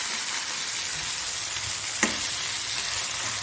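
Mackerel pieces coated in masala fry in hot oil, giving a steady, close hiss of sizzling with a single brief clink of a utensil partway through; no voices.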